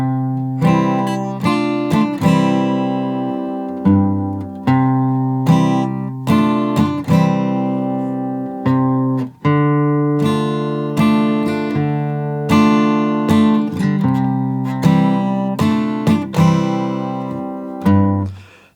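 Acoustic guitar strums the verse chord progression of a song, starting on C, in a steady rhythm, chords ringing full and close, played alone with no singing or talking.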